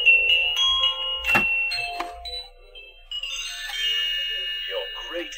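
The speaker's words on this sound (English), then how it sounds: "This animated eyeball doorbell is so hilarious." A novelty animated eyeball doorbell for Halloween, on display in a home goods store, chimes in bright tones after its button is pushed, then a short electronic voice clip plays. Someone talks over it at close range.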